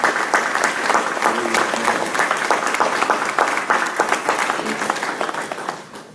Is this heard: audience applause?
yes